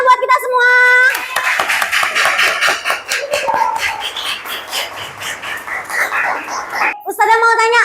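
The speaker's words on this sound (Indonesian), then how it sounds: "Oke, tepuk tangan buat kita semua." Children in a madrasah primary classroom burst into several seconds of lively, close group clapping, with a voice talking just before and after.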